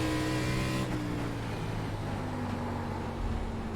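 ARCA Menards Series race car engines in the iRacing video game at USA Speedway, a steady loud droning engine roar holding a sustained pitch throughout, with a slight shift in tone partway through as another car runs nearby.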